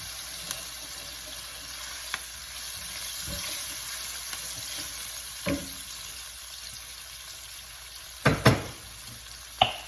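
Chopped onion and crushed garlic frying in oil give a soft, steady sizzle, broken by a few clattering stirs and knocks near the end, with no talk.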